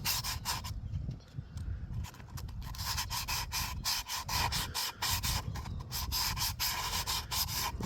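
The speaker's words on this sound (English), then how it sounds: "now I'm lightening up and just going back over it one more time with the 220." Wet sanding of primed paint on an Aerotech Sumo model rocket with 220 grit paper, a close, steady rhythmic rubbing and scraping with repeated back-and-forth strokes and short pauses, alone without talk.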